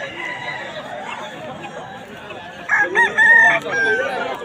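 Several roosters crow one after another at a cockfight, loud and close, with chatter and clucking from other birds in the background.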